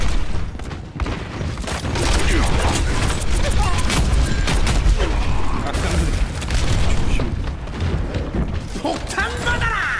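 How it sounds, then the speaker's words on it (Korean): Bombs go off in the online shooter Overwatch as a dense barrage of booming blasts and crackling impacts, loud and continuous, with a voice talking over the action. "폭탄 받아라!"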